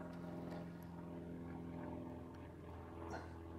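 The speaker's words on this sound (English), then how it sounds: "Especially while the plane's going over as well." Propeller airplane passing overhead at a fishing lake, a steady low engine drone that stays even and fairly faint throughout.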